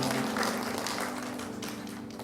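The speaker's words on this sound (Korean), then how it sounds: "이곳에 불러주신 하나님의 영광의 박수를 드리겠습니다" A church congregation claps together after a call for applause during a Sunday worship service, a steady, fairly quiet patter of hands over a sustained low musical tone.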